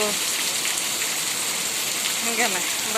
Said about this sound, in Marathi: आमच्याकडं पाऊस आहे आलाय पाऊस